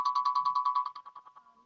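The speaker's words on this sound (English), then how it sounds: "Who the hell's ringing Tony Tiger" A phone ringtone sounds as a rapid, pulsing electronic trill, bright and clear, that stops after about a second and then fades out in a short ringing tail.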